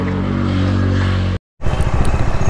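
A Bajaj Dominar 250 motorcycle rides along with a steady, loud engine drone that cuts out briefly, then returns as rougher, pulsing exhaust thumps.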